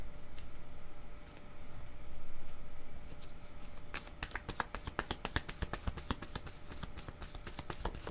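A deck of cards is shuffled and drawn for a card reading, first as a soft rustle, then as a rapid run of crisp riffling flicks, close and quiet with no talk.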